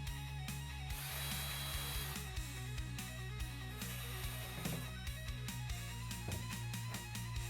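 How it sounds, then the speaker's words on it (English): Power drill with a 7/32 bit boring through a part, a steady whining motor run over several seconds with ratcheting clicks and rattles near the end, close and fairly loud. "so let me hit this real quick with the drill."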